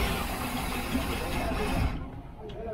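A V8 454 boat engine runs with a loud, rough roar, then the sound abruptly thins and drops as a hand chokes the carburetor, leaving a lower sputtering rumble.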